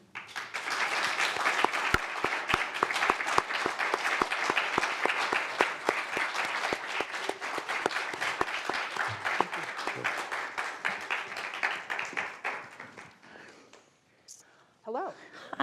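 An audience welcomes speakers onto a stage with sustained, dense applause, loud and steady for about twelve seconds before thinning out. A few scattered claps and a voice follow at the end.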